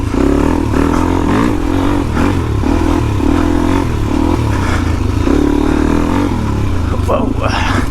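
A Suzuki DRZ 400e motorcycle rides off-road in first gear, its engine rumbling loud and close with rising and falling revs, mixed with clattering and scraping from rough ground and a voice underneath.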